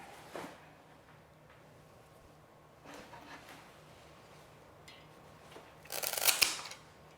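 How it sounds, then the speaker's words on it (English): Cutting through a moss pole section, heard as a few soft snips and rustles that build to one louder, crisp cut near the end, with no voices. "I'm gonna go ahead and cut another section here."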